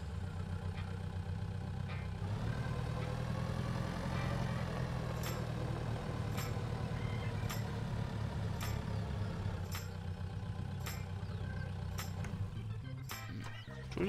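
Tractor engine in the farming game Pure Farming, driven to the workshop: a steady loud diesel drone rising in revs, with a string of sharp regular clicks toward the end.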